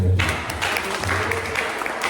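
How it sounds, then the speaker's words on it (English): Audience applause for a comedian guest on a podcast, a steady, moderate patter of clapping that holds through the short stretch without talk over it. "Can we clap it up for him?"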